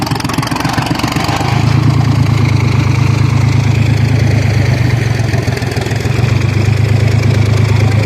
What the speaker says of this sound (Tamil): இப்போ வந்து டிராக்டர் வச்சு இழுக்கிற ஆரம்பிச்சிட்டாங்க.